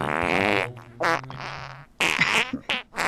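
A person's voice imitates a fart with a long, wet, raspy blurt, then several shorter sputtering bursts, loud and close, interleaved with brief pauses.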